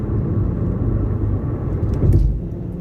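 Loud, steady low rumble of a car rolling over a bridge deck, with road roar swelling briefly near the end.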